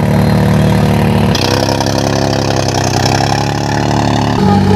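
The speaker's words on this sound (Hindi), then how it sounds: "काफी जबरदस्त ट्रैक्टर है भाई ये मैसी 7250 में।" A 2018 Massey Ferguson 7250 tractor engine runs steadily up close, a loud continuous diesel drone with a low rhythmic throb that shifts in tone partway through, with no voices.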